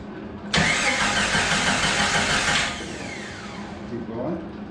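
An old Jeep engine, #73, being restored and reunited, cranks and catches with a sudden loud roar close by. It runs strongly for about two seconds, then drops to a lower idle while faint voices talk in the background.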